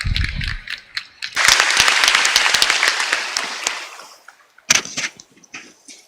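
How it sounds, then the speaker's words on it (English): An audience at a panel discussion on aging and demographics gives a round of applause to thank the panelists, a short burst of clapping that swells, fades out, then a few last scattered claps. "I really do call for a round of applause to thank you."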